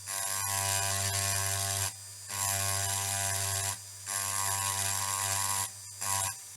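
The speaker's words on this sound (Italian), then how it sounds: "oppure meglio ancora usare una fresettina, Dremel o simili, per asportare il materiale in questo modo qui." A Dremel-type mini rotary tool mills away a copper track on a circuit board: a close, steady high-pitched buzzing whine that runs in four bursts separated by short pauses.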